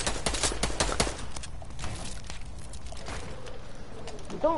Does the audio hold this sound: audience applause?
no